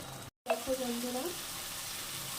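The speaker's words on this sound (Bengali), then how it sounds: "চলো এভাবে মশলাটা কষিয়ে নেব" Spice paste sautéing for a boal fish curry, a soft steady sizzle after a brief cut, with a faint voice-like tone briefly rising over it.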